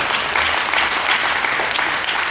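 An audience breaks into a round of applause, a dense, steady wash of clapping from many hands at a political speech, sustained throughout without voices on top.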